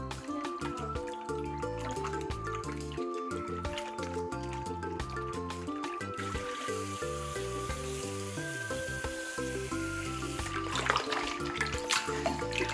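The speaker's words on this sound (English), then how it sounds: "we'll repeat rinsing with cold water until the water runs clear" Cold running water splashes and trickles over fish being rinsed in a kitchen, a steady soft wash with faint drips, while quiet music plays in the background.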